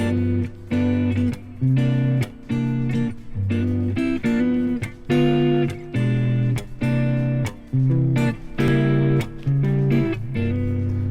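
Electric guitar strums a blues progression in short rhythmic chord stabs, with a diminished passing chord slipped in, played alone and clearly.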